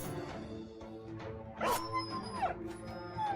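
A dog whimpering as it dies in a survival game: faint, short whines and yelps, some rising and falling in pitch, over a low droning background with no talk.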